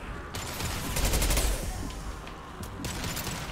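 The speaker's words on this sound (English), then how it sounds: "Firing an impact gun." Impact gun firing in the video game Mass Effect 2, a dense rapid burst of sharp gunshots with crackling reports, loud and close throughout, swelling briefly midway.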